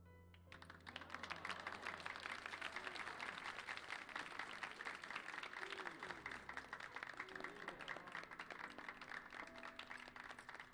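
Crowd clapping in a Final Fantasy XIV game cutscene, a steady dense patter of many hands held at an even level for several seconds, with game music and tones underneath.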